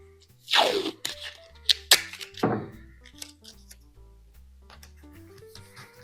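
Painter's tape is ripped off the roll during a craft project making children's cupid wings: a couple of sharp, close tearing rasps, with small crackles and taps between them.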